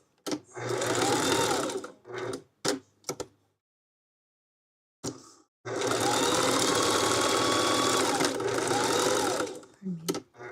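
Sewing machine stitching over snipped threads for a craft project, running loud and steady in two long bursts, with a few short stitch starts and a silent pause between them.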